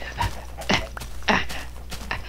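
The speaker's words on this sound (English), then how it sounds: "Dog, God, this dog has ADHD." A dog in the Minecraft video game gives a series of short, close, breathy whimpers and pants, about four distinct bursts spaced unevenly with brief gaps between.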